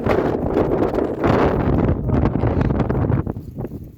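Loud wind buffets the microphone in rough, rumbling gusts outdoors, with rustling underneath and no one speaking.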